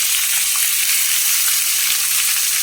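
Three large onions sizzle steadily as they sauté in hot coconut oil in a pan, a loud, continuous, even hiss with no voices over it.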